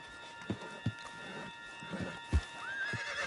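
Horse in the Red Dead Redemption 2 video game whinnies over a few sharp clip-clop hoof strikes, close and fairly loud, with a rising squealing neigh near the end and no talk.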